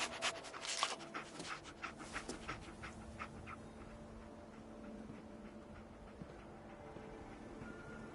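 Dogmeat, the dog companion in Fallout 4, pants in quick rhythmic breaths at close range, strongest in the first few seconds and then fading into a quieter game ambience with a low background hum.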